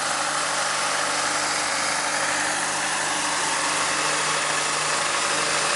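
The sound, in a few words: Kobelco 330 excavator engine running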